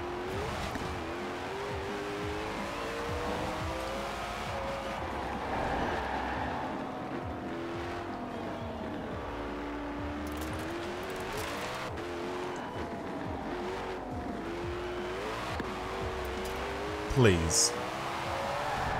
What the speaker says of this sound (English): if I tried to floor it, it just immediately starts to spin those wheels